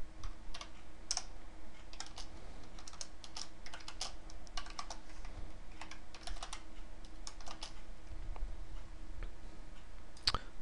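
Rapid, irregular clicking of a computer keyboard fills the clip as someone types C++ Qt code, close and clear with short pauses between bursts of keystrokes.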